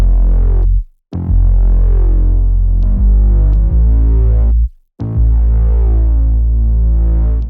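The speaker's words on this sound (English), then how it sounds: "I distorted the main sample with some pitch automations and added some reverse sounds." A heavily distorted, droning synth sample throbs loudly with pitch sweeps, swelling reversed sounds and abrupt cuts between phrases, all washed in reverb.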